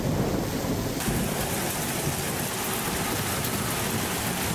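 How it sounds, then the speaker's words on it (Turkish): Heavy thunderstorm rain pours steadily with a dense, continuous roar, loud and close, with deep low thunder rumbling underneath. "Sağanak yağışla birlikte fırtına koptu"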